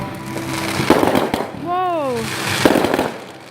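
Fourth of July fireworks bursting in rapid, gunshot-like pops and crackles, fairly close, with a whistling rising-falling tone in the middle while people exclaim and chat over it.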